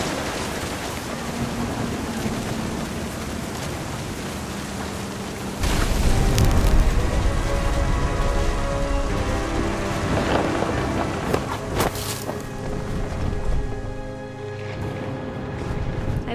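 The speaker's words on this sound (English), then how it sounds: "The thunder sounded much too close and full of angry power" Thunderstorm with heavy rain in the video game What Remains of Edith Finch, a steady wash of rain that swells into a loud, rumbling thunder roll partway through, with cracks and booms close by.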